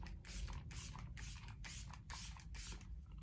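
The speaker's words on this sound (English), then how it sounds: "I'm going to go in with another spray." A setting spray is misted over freshly applied makeup in several quick, even pumps, each a soft airy hiss, close and fairly quiet, with no talk.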